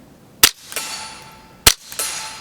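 A Performance Center TCR .22 pistol with a Rebel Silencers SOS-22 suppressor fires CCI subsonic rounds at a steel target: two crisp, close shots about a second apart, each answered by a ringing metallic ping that fades slowly, no talk.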